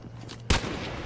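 A single sharp sniper rifle shot in a Call of Duty match cracks out loud and close, then rings into a short noisy tail over faint background game sound.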